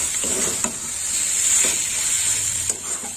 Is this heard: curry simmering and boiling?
yes